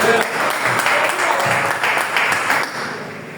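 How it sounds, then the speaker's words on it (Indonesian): A church congregation claps together during a Sunday service, a loud burst of applause lasting a few seconds before tapering off. "Boleh tepuk tangan buat Tuhan."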